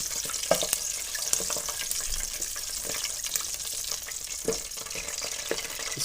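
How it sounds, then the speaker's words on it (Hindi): Whole dried red chilies frying in hot oil for masoor dal, giving a steady close-up crackle with scattered sharp pops and stirring clicks throughout. "ऑयल हमने डाल दिया, इसमें गरम हो गया ऑयल। इसमें अभी डालेंगे हम रोन चिली, साबुत सुरख मिर्च।"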